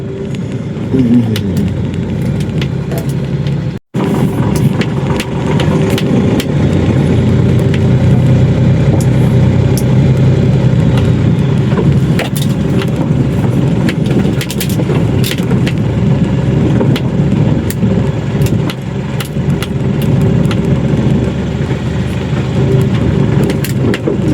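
A steady, loud engine drone from an Ashok Leyland bus mod in Bus Simulator Indonesia runs unbroken for the whole stretch, with one brief dropout early on.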